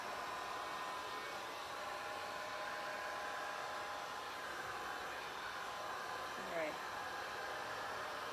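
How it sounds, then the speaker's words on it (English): A heat gun blows steadily while drying Dixie Belle chalk paint in Barn Red, Muscadine Wine and Caviar, making a constant airy whoosh with a low motor hum throughout and a brief faint chirp near the end. "Keep your heat gun moving so that you don't bubble up the paint. But it dries pretty quick with this heat gun."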